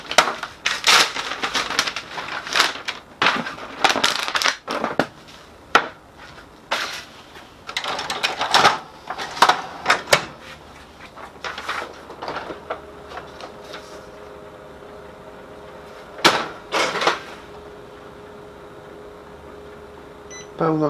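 Ricoh MP C401 copier printing during a toner test, with irregular mechanical clunks, rapid clattering bursts and whirring, followed by a quieter steady hum, beeps and a final sharp clack.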